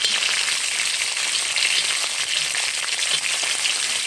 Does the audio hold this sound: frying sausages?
yes